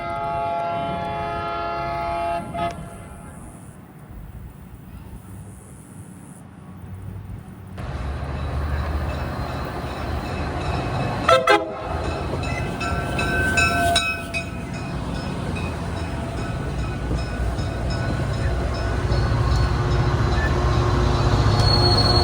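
Commuter train passing by: a low, continuous rumble of rail cars builds and grows louder over about twenty seconds, with squealing wheels and a long horn or siren-like tone early on, and no talking.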